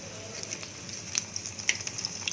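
Bread pakora fries in a pan with a close, crackling sizzle and scattered sharp pops, with no voices.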